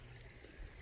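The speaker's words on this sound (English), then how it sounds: "Here behind me, I've got another creek running." A creek runs outdoors as a steady, quiet wash of flowing water, faint and continuous, with no voices.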